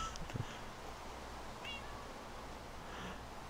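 A single faint cat meow in a video game rises briefly over a steady low background hum, with no voices.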